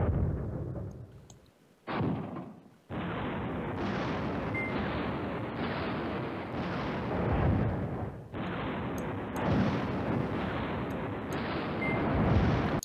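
Airstrike explosions in Command Ops 2 rumble in a long, steady barrage of booming blasts, continuous and loud with brief gaps between waves.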